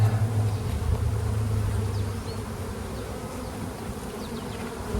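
Honey bees buzz in a dense, continuous hum close by on a hive frame, steady and unbroken, with no talking.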